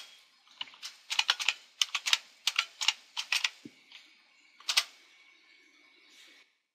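Fast bursts of keystrokes on a computer keyboard while logging in to an Ubuntu Server 10.04 machine, close and crisp, in quick clustered runs with a short pause near the end.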